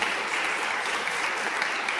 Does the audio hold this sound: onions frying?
no